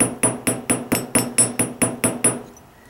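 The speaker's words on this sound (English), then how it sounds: "my hammer hitting the bench block a little bit, but this is a really, really light tap" A small chasing hammer taps metal on a steel bench block about ten times in quick, even succession, each strike bright and ringing briefly, close up.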